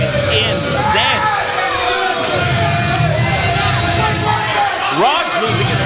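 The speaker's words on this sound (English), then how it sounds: "This crowd is incensed." Angry crowd at a Twin City Wrestling event yelling and booing after a tag team title change, a loud sustained roar with shouts over it while a commentator talks.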